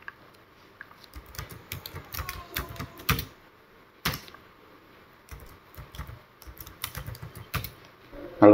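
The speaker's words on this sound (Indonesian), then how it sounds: "Kita ketik nama judul tabelnya." A table title is typed on a computer keyboard in Word, with irregular bursts of crisp key clicks and short pauses between them, close and fairly quiet with no talking.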